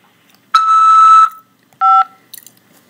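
Two telephone keypad tones sound on an automated prison call system, a longer tone then a shorter one, loud and clean against silence, with no speech.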